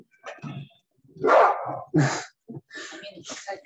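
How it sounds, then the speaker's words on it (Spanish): A dog barks in short, loud bursts close by, a few sharp yips and barks with brief pauses between them during an online meeting. "se puso a ladrar todo"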